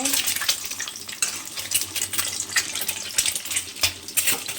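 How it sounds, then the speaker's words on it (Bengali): Halved eggs frying in a pan, a steady bright sizzle with light spattering and crackle throughout, close and fairly loud, without any voices. "দেখো ডিমটা ভেজে নিচ্ছি"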